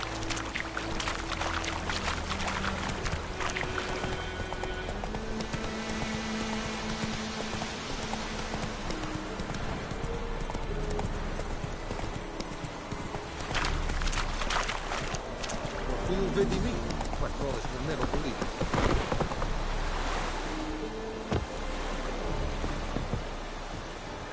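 Roach the horse gallops through a Witcher 3 game world, a steady clip-clop of hooves running under ambient music with occasional voices and effects layered on top.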